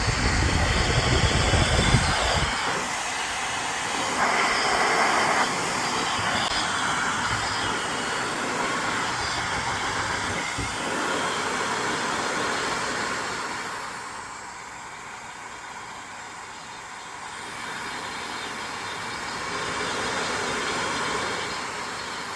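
Shark SpeedStyle hair dryer running: a steady, loud airy whoosh that continues for about twenty seconds, with a short clatter at the very start.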